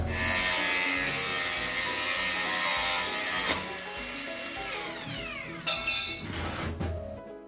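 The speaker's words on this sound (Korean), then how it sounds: "이렇게 놓고 여기서 밑에 잡고 자르면 될 것 같아요. 그라인더" An angle grinder cuts through a water pipe while plumbing a shop restroom, a loud steady whine of abrasive cutting for about three and a half seconds, then quieter tool handling and clinks.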